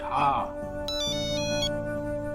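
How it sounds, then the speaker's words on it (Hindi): A telephone ringtone plays a bright repeating electronic melody, clear and close, beginning just after a brief spoken voice. "अरे बैसा का फोन, बैसा के बारे में बात कर रहे थे, उनका फोन भी आ गया।"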